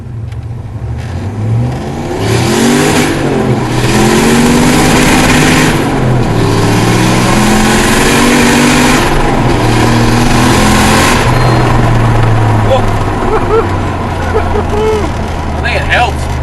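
A turbocharged LS1-powered car launches hard on boost, its engine roaring loud and close as the revs climb in repeated rising sweeps that run for most of the stretch before easing off.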